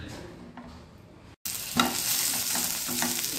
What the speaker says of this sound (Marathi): असं आपण तव्यावरती थोडा वेळ शालो फ्राय करून घेऊया